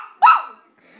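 A dog gives a single sharp, close bark at dogs on a television, loud and brief against an otherwise quiet room.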